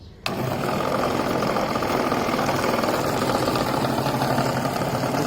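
A homemade DC motor device powered through paralleled rectifiers starts abruptly and runs loudly, a steady buzzing whir that holds without a break.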